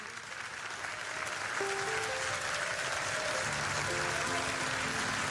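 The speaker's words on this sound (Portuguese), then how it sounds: "glorifique ao Senhor com palmas" A church congregation claps along during worship, a continuous rushing clap texture beneath sustained organ or keyboard tones, steady and fairly full throughout.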